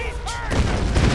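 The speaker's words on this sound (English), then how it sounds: "He's shooting at me." Enemy gunfire in Tomb Raider crackles as a dense burst of rapid, loud shots. The burst rises midway and continues to the end over game sound effects.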